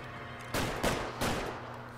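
Gunfire in the video game L.A. Noire comes as three sharp, fairly loud shots, each followed by a brief rumbling tail, all within about two seconds.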